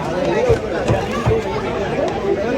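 Dense crowd chatter fills a busy college admission hall, a steady babble of many overlapping voices with footsteps and bumps mixed in, close and continuous.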